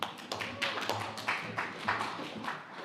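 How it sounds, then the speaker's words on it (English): Audience applause greets a panel moderator taking the stage at a live conference stream, a steady patter of many hands at moderate volume with a few louder swells, no talk over it. "round of applause for Eleanor, everybody"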